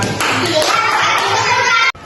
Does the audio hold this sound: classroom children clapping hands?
yes